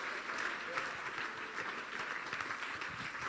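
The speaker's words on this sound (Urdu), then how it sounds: "اگر آپ کو اس کلام سے برکت ملی ہے تو پھر زوردار تالیاں بجا دیں یسوع کے جلال کے لیے" A church congregation applauds steadily, a dense, fairly distant wash of clapping with a voice faintly underneath.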